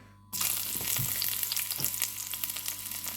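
Chopped garlic hits hot oil in a pan and starts a loud, steady sizzle after a brief quiet moment, with faint stirring clinks and no voices. It is being fried for courgettes in tomato soup.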